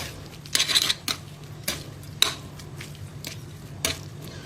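Utensils clatter against a bowl while Bangka chicken noodles are stirred and mixed, with a series of short, sharp clinks and scrapes at an irregular rhythm, close and fairly quiet, and no talking.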